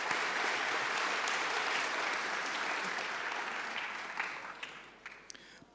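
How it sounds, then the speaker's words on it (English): Conference audience at a Python quiz session gives a full round of applause, sustained and even before thinning out into scattered final claps. "round of applause for core A developers"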